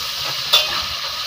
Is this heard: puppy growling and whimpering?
no